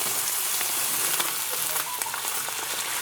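Creamy vodka marinara sauce warming in a pan, a soft continuous bubbling sizzle with faint scraping as it is stirred, fairly quiet and without voices.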